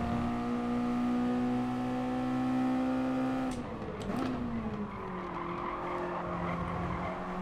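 Race cars roar around Laguna Seca in Gran Turismo Sport, a loud engine drone holding steady pitch, then dropping and shifting as the car brakes with a brief tire squeal into a corner.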